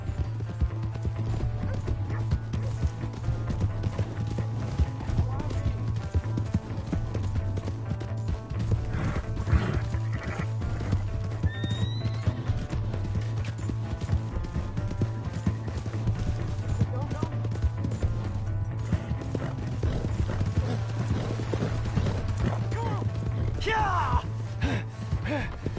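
Horse hooves clip-clop steadily at a run with a whinny in Red Dead Redemption 2, under a low constant rumble and occasional game voices.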